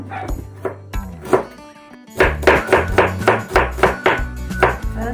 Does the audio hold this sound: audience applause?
no